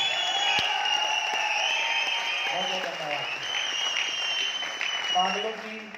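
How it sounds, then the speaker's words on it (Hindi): A crowd at a gathering in Aurangabad claps, whistles and cheers together, with shrill whistles ringing over continuous applause and voices shouting throughout. "एक बार तालियां, सीटियां, हुल्ला करके बता दीजिए"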